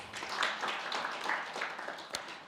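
Applause from a dinner gala audience, a steady wash of many hands clapping at moderate distance, lasting a couple of seconds with no talk over it.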